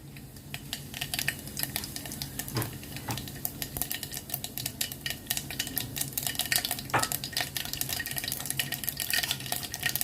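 Mustard seeds and cumin spluttering in hot oil, a steady dense crackle with scattered sharp pops, fairly close and moderately loud, no talking.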